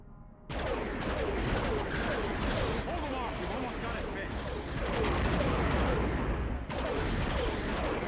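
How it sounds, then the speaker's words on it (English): A ship turret in the Star Wars Galaxies game firing at TIE fighters, dense rapid blaster fire with booming impacts that starts abruptly and keeps up for several seconds, with a voice talking over it. "So we're gonna go up and we're gonna shoot some TIE fighters"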